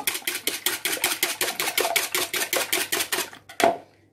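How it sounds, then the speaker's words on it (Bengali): Rapid, steady whisking of eggs in a bowl for a potato omelette. Crisp clicking strokes repeat evenly, close and alone, then stop briefly before one last stroke. "ডিমটাকে খুব ভালো করে ফেটিয়ে নেব"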